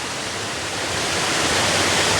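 Little Shickshinny Falls, a waterfall on Shickshinny Creek in Pennsylvania, roaring in a dense, constant rush that swells slightly louder over two seconds, close and with no voices.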